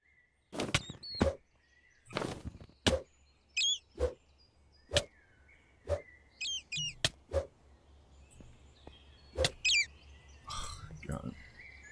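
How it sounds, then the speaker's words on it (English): Birds chirp and tweet in short bursts within a video game scene, mixed with sharp thunking clicks and scattered game sounds, the calls fairly clear and moderately close. "I don't know how you can so clearly hear the birds."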